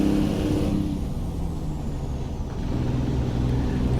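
A Mack R truck hauling cattle in American Truck Simulator, shifting into its top gear and pulling up to speed: a steady, loud low engine drone with a brief hiss early on, then continuous rumbling.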